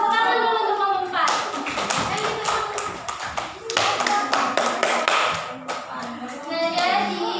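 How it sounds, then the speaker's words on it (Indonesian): Children in a primary school classroom clap for a group of classmates, a loud crowded burst of hand claps in the middle with a teacher and kids talking before and after. "Tepuk tangan dulu untuk kelompok 4."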